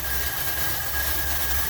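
A 1981 Dodge B250 Ram van idles with a steady low rumble and a faint constant whine, heard close up with nobody speaking.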